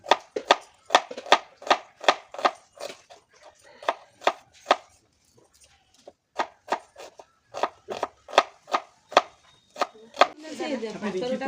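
A knife chops garlic and vegetables on a board in a home kitchen, giving a rapid run of crisp, evenly spaced strokes, a short quieter pause, another steady burst, then a rising hiss at the end.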